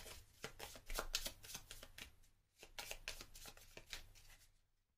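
A deck of cards being riffle-shuffled twice, crisp rapid fluttering bursts close by, each ending in a soft settle.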